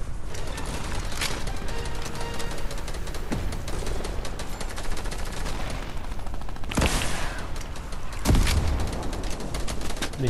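Gunfire in a Fortnite team rumble: continuous rapid shots and game noise throughout, with a couple of sharper loud blasts near the end.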